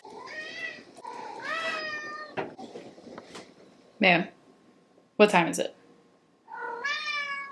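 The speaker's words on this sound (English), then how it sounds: "I'm pretty sure that meow means dinner time." A pet cat meows repeatedly for dinner in a home kitchen, several drawn-out calls near the microphone, with a voice speaking between them.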